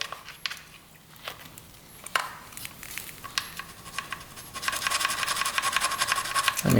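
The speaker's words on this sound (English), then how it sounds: "now we're gonna take our file and just file these points, all that gunk away" A metal file scrapes gunk off motorcycle ignition points in soft, irregular rasping strokes with a few sharper scratches, growing into a steadier, louder rasp toward the end.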